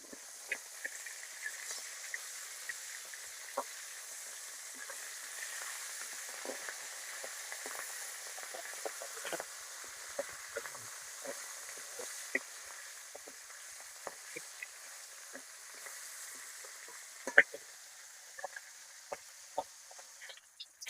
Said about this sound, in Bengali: পাবদা মাছ কিন্তু ভাজতেছে